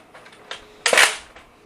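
A Fortnite toy blaster fires a foam dart with one sharp, bright pop that is close and fairly loud, followed by a short fading hiss, with faint clicks just before.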